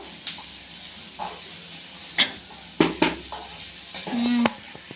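Garlic and ginger frying in a pan for chicken kosha are stirred in a few scraping strokes over a low sizzle, with a clatter near the end.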